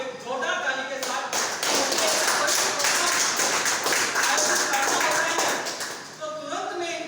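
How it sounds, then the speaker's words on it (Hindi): An audience at a college foundation day event breaks into loud, sustained clapping that fills the room for several seconds before fading out, with a voice speaking faintly at the edges. "एक जोरदार ताली के साथ"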